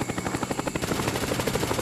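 A Cobra attack helicopter arrives in Call of Duty Black Ops on the Jungle map, its rotor thumping in a fast steady rhythm, loud and continuous with no talk.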